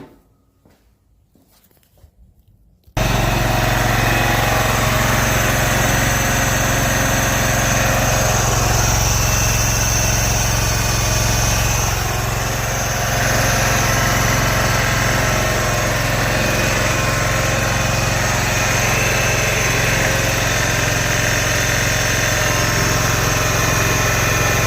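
A John Deere 185 lawn tractor engine starts after a quiet moment and runs steadily, a loud close droning idle with constant buzzing vibration and no talk.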